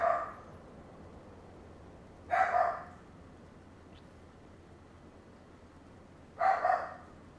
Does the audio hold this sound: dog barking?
yes